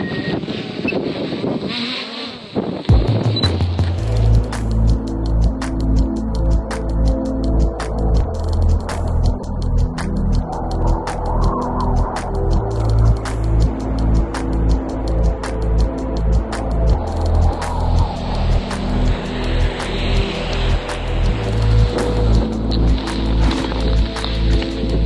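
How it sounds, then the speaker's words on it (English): Camera drone lifting off and flying over Lapland, Finland, on a windy day, a steady loud motor whine with rhythmic pulsing and harmonic bands, preceded by brief handling noise and wind buffeting at the start. "Yeah, I'm gonna probably throw the drone up quickly."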